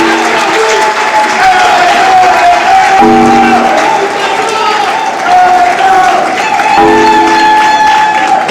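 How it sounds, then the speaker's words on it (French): Loud, sustained applause from a celebrating community crowd honouring a laureate, continuous clapping with crowd noise and some voices mixed in throughout. "Je vous invite à réserver des applaudissements nourris à l'honneur de notre lauréat."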